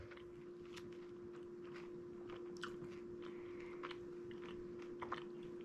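Someone chews a Protein and Co chocolate salty peanut protein bar close to the mic, with soft, steady mastication and a few slightly louder crunchy bites over a quiet, even background hum.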